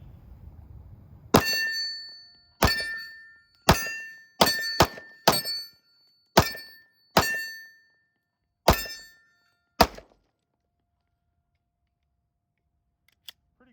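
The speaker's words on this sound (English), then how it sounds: "I think it's a good time to pull out the HK and shoot some Smith & Wesson." An HK P2000 pistol chambered in .40 Smith & Wesson fires about nine sharp, loud shots at an uneven pace, each crack ringing briefly before quiet returns, with no talking.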